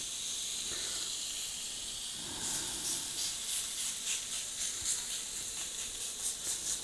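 Ribeye steak searing in a cast iron pan gives a loud, steady hiss that swells and flutters as the meat is laid down and pressed, close and alone.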